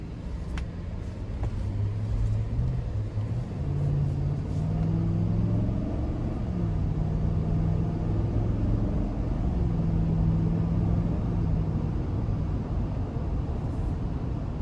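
A 2021 GMC Yukon SLT with a 5.3 liter V8 and 10-speed automatic pulls out of a parking lot, its engine a steady low rumble with gentle rising and falling tones as it shifts, continuous and fairly close throughout.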